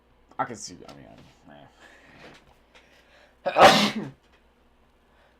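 A single loud, sharp sneeze bursts out close to the mic just after a few quiet spoken words, then silence follows.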